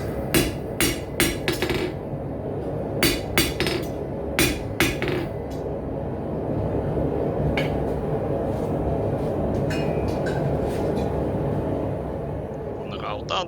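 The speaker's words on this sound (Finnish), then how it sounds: "Taltatessa on tärkeää ihan viimeisessä talttauksessa pistää alasimen ja raudan väliin jonkinlainen suojaava levy" Hammer blows on a chisel cutting hot forged iron over an anvil while forging a ram's head bottle opener, a quick burst of sharp ringing strikes, a pause, then scattered hits over steady background noise.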